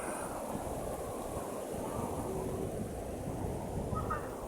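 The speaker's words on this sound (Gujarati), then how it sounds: "આ ખારાનું પાણી છે ઓવરફ્લો થઈ ગયો જોઈ લો મિત્રો આજે ખારો પાછો ફરીને ઓવરફ્લો થઈ ગયો" Overflowing brackish water pours into a river in a steady, continuous rush, with wind buffeting the microphone throughout and no pauses or distinct splashes.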